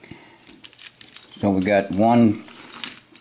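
A box of metal locks rattles and clinks as it is handled, small jangling metallic knocks scattered throughout while someone talks over them.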